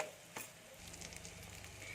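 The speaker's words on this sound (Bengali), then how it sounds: "এগুলো আমি এবার ভাজতে দেবো গ্যাস কম করে আমি ভাজছি" Small egg fritters fry in oil over low gas heat, a soft steady sizzle after a brief clatter at the start, close and quiet with no voices.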